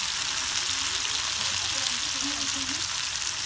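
Cumin and mustard seeds crackle in hot oil at the start of a bottle gourd bhaji. A dense, even sizzle fills the whole moment, with a faint voice briefly audible beneath it.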